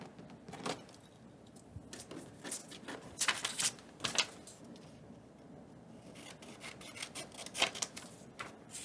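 Paper angle shapes are cut out by hand, making irregular close rustling and rasping snips in uneven bursts against a quiet background.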